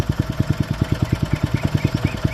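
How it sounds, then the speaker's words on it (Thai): A Robin 5 hp four-stroke gasoline engine with a reduction shaft runs steadily nearby, its firing pulses thumping in an even, rapid rhythm with no talk over it. "ระบบเครื่องเครื่องยนต์เบนซิน เ่าทด 4จังหวะ"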